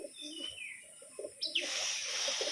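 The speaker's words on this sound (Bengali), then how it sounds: "এটা পায়রা নর পায়রা" A male pigeon at a home loft gives a few soft, low coos close by, followed by a sudden rustling hiss that continues to the end.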